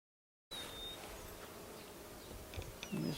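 Honey bees buzz steadily around an opened nuc colony hive after smoking, a close, continuous insect drone with a few louder passes near the end.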